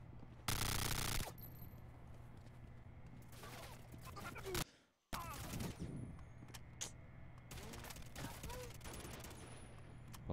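Video game multiplayer gunfire: rapid automatic bursts and sharp single shots, loud and close, with a brief drop to near silence midway, layered over a steady background hum.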